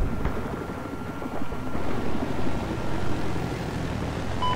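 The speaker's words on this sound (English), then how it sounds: "I hear chopper blades, but I'm not sure where it's coming from." Helicopter rotor blades in the video game Battlefield 4 produce a steady, low, thrumming drone that swells slightly midway, moderately loud and continuous, with no talking.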